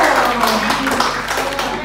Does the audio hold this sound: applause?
yes